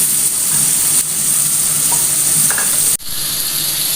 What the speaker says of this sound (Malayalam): വെളിച്ചെണ്ണ ഒഴിച്ചിട്ടുണ്ട് ഇനി അതിലേക്ക് നമ്മൾ വെളുത്തുള്ളി ഇഞ്ചി ചെറിയ ഉള്ളി ചതച്ചെടുത്ത് കൊടുക്കുന്നുണ്ട്